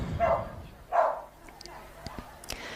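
A large dog gives two loud barks close by during a Nations Cup agility run at an international agility festival, followed by fainter clatter and thuds.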